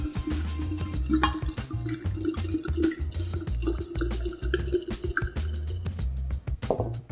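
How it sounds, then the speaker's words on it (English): Spanish wine glugs and splashes steadily into a jug of mashed fruit for sangria, with irregular drips and gurgles over a low hum, ending in a few trickling drops. "And pour in a bottle of that Spanish wine."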